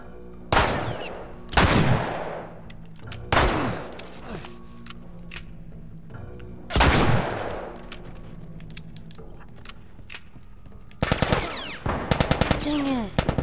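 Gunfire rings out in The Last of Us video game, with several loud, separate bursts of shots spaced a second or two apart. A faster cluster of rattling shots comes near the end.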